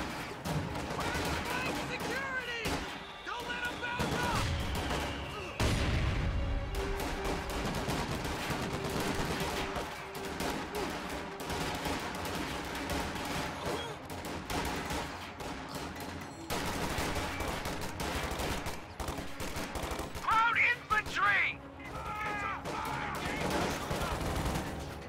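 Rifle and small-arms gunfire crackles through a real-time strategy battle as riflemen push against enemy troops, dense bursts of shots layered over music and effects, with a louder volley near the end.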